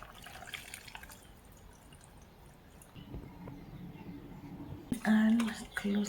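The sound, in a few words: adding clean water to blender for banana smoothie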